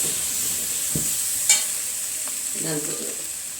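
Steady high sizzle of lentils frying in a pan for sambar, with a few scraping clacks as a spoon stirs them.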